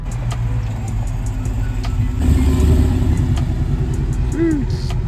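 A Dodge Hellcat pulls away from a Cars and Coffee meet, its engine rumble swelling loudly midway and then holding a strong roar amid outdoor traffic noise, with a brief nearby voice.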